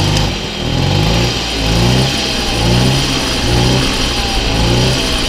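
A restored engine runs steadily while held on the throttle, a loud continuous mid-pitched drone with gentle swells in revs and no talking over it.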